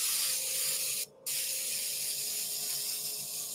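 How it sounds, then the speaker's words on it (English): An airbrush sprays paint around frisket-masked circular comic panels, a close steady hiss with one brief pause before the spray resumes, with no talk. "I needed to airbrush everything around them except for them"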